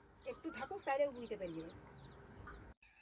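Chickens cluck in short, close bursts while being put away in a covered coop at home, fading to quieter background clucks before a sudden cut.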